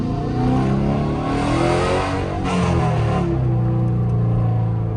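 A Dodge Charger R/T engine revs steadily and loudly while driving, its deep drone rising and falling across several seconds with no talk over it.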